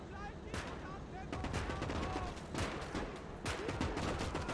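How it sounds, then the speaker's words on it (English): A Katyusha rocket barrage booms in the WW2 game Gates of Hell: Ostfront, heard as several heavy, rumbling blasts in quick succession at moderate distance. "A Katyusha barrage."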